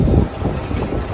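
Ride aboard a crowded Mumbai local train, a loud, rough low rumble of the carriage with wind buffeting, brief and continuous without clear voices.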